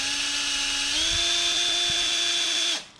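A power drill whines steadily at close range while boring into a bolt on a 1600 Crossflow engine being prepared for a Mk2 Escort, its pitch dipping slightly as it bites, then spinning down and stopping.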